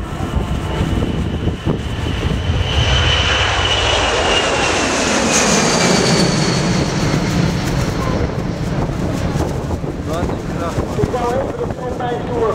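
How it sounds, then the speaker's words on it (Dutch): C-17 military transport aircraft rolling for take-off at an air show, a loud, sustained jet engine roar with shifting whine and wind buffeting, heard from the crowd with voices talking over it. "Daar gaat hij, de C-17,"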